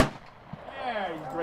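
A rifle chambered in 5.56 rounds fired at an outdoor shooting range: one sharp, close shot at the very start, then its echo decaying across open ground.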